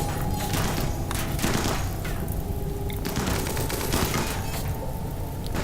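Gunfire in RimWorld Alpha 16 during a fight with a mechanoid centipede: rapid, continuous bursts of shots with dull thuds and booms, dense and loud throughout, no talking.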